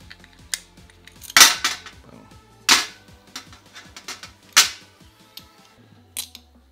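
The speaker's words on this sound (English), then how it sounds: "let's get these screws off." Screws are being removed from an ABUMATIC 170 fishing reel, with sharp metallic clicks and clinks of small parts and tools close up at irregular intervals over faint squeaky turning sounds, and no talking.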